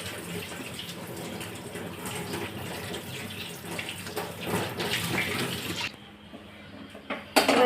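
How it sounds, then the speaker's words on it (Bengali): Pointed gourds washed under a running kitchen tap, a steady close rush of water splashing over the vegetables that cuts off near the end, followed by a couple of brief clatters. "এবার আমরা পটলগুলো ধুয়ে নেবো ভালো করে।"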